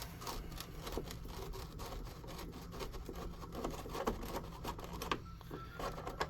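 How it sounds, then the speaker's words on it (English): Screws are being removed from a non-working original Xbox console, with a quiet, continuous scratchy whirring of a power screwdriver close by, no talking. "Let's get these screws out."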